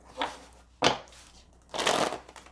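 Tarot cards being shuffled by hand in three short riffling bursts with pauses between, close and fairly quiet, no talking.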